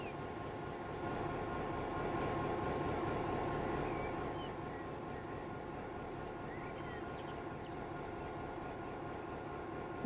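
A train rumbling along the track in the video game Transport Fever 2, a low continuous mechanical drone that swells slightly early on then holds steady at moderate volume.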